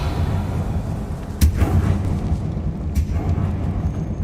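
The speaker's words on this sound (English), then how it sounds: "Revelio" A Revelio spell effect in the Hogwarts Legacy video game: two sharp booming pulses, the first stronger, over a low ambient rumble in a decayed catacomb.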